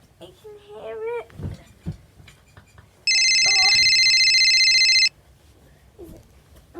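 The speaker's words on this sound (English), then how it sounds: "My phone is ringing." Mobile phone ringing indoors: a loud electronic ringtone of steady repeating tones sounds for about two seconds, with a voice speaking and babbling before and after it.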